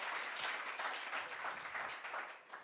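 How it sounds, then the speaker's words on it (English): Audience applause at a state poetry recitation competition, a brisk continuous clatter of many hands clapping in a small room, fairly close and steady, tapering slightly toward the end. "Clap for everybody."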